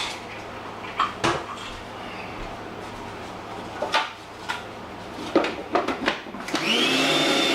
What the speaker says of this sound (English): As you can see, it's blending now.